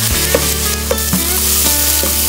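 Tomatoes and onions sautéing in a pan for kabsa, a steady loud sizzle with several sharp clinks of a spoon stirring against the pan, no voices.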